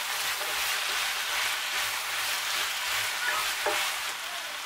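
Fried onion, tomatoes and carrot stirred in a pot, a continuous hissing sizzle with soft scraping strokes of a spoon at a steady pace, no voices.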